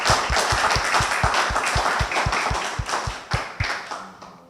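An audience claps in unison at a lecture, a quick steady rhythm of sharp hand claps, about fifteen in a row, loud and close before tapering off, with no speech over it.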